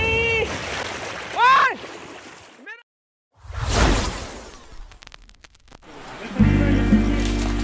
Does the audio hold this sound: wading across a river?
yes